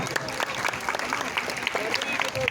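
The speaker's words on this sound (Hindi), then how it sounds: "एक बार पहले ताली बजाओ," An audience claps in applause, a steady dense patter of many hands continuing throughout with a voice over it.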